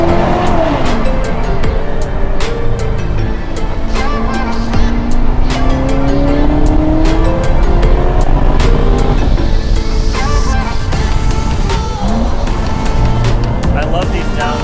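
A Corvette engine downshifting on the road, with loud nearby revs rising and falling through gear changes and a brief tire squeal, while people talk over it.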